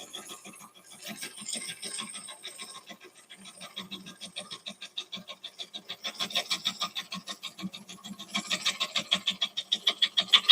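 A scraper tool cuts a spinning wooden bowl on a woodturning lathe, producing rhythmic, pulsing scraping strokes up close that grow louder and more regular as the cut goes on.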